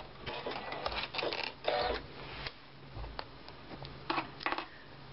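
An embroidery sewing machine stitches a quilt seam in bursts of rapid mechanical ticking and whirring, pausing briefly between runs, heard close and moderately loud.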